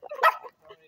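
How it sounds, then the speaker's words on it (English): A small dog gives a brief, high yip or bark, close by and moderately loud, then a fainter follow-up sound, all within a second. "little dog barking at me."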